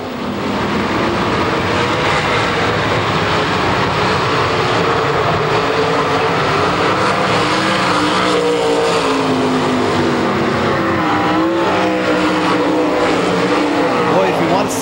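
Race car running flat out at speed at the Dodge County Fairgrounds track in Beaver Dam, a loud continuous engine roar with shifting pitch, steady and dense throughout, with crowd or announcer voices underneath.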